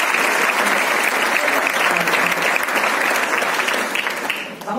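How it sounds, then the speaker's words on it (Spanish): Sustained applause from the audience at the Liga Endesa 2018-19 basketball league presentation event, loud and dense throughout, thinning slightly near the end. "Un aplauso para ellos"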